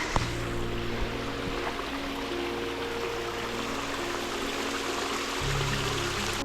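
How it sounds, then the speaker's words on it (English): A small waterfall beside a hiking trail in Big Sur, a steady broadband rush of falling water heard close and continuous throughout, with no voices. "they have a nice little waterfall with a water source"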